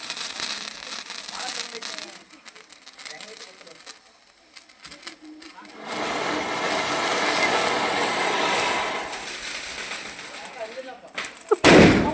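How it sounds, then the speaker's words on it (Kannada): Fancy Diwali firecrackers burst during a home celebration, with a long stretch of loud, dense crackling and hissing and a sharp, close bang at the end. "ಎಷ್ಟು ಪಟಾಕಿ ಹೊಡೆದಿದ್ದೀವಿ"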